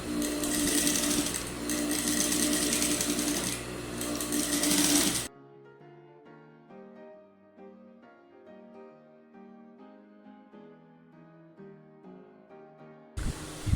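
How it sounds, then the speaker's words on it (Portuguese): A domestic sewing machine runs a long, loose gathering stitch at its longest stitch length through doubled fabric for small doll clothes. It makes a loud, steady whirring hum for about five seconds, then stops, leaving only faint background music. "vou passar a costura aqui no ponto de franzir, tá? É um ponto mais aberto, eu uso o ponto maior que tem aqui na máquina"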